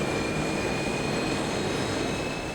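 Research aircraft flying low on a meteorological survey flight over the Amazon, a steady, continuous engine drone with a thin high whine, held at a constant level without any voices.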